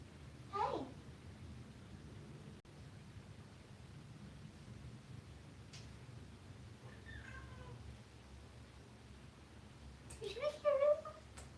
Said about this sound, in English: his meows make me so sad sometimes